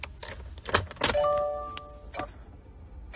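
Keys to a 2017 Subaru Impreza WRX-STI jangle and click into the ignition and turn, a few sharp metallic rattles followed by a brief electronic chime and soft clicks nearby.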